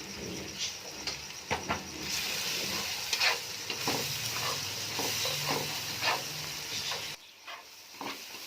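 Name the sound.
spices and chicken masala being fried and stirred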